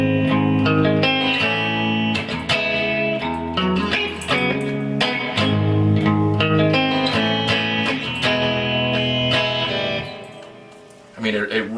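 A Danelectro '56 U-2 reissue electric guitar with single-coil pickups, poplar body and neck and rosewood fretboard, played clean in ringing chords and melodic lines, close and loud, fading briefly near the end before a final strum.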